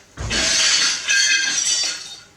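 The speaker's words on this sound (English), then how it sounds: "Sounds like some broken glass outside somewhere." Glass breaking outside, a bright crashing shatter in two bursts followed by a trailing tinkle of shards, loud and alone with no voices.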